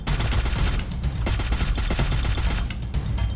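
Rapid, continuous automatic gunfire from a video game shooter, loud and dense bursts rattling without pause for a few seconds, no voices.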